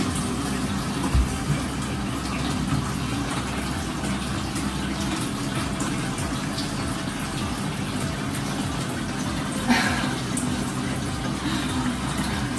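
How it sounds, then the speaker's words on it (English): Water pouring steadily into a bucket for watering houseplants, a continuous close rushing gush with no break for over twelve seconds. "Time to fill the bucket."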